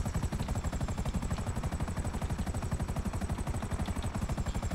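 A helicopter in GTA V thuds with a fast, steady rotor chop, loud and close, beating evenly throughout with no voices.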